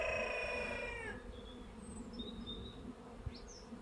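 Honeybees buzz steadily during a hive transfer from a mini-plus box to a Warré hive, a faint continuous hum with a few birds chirping in the background.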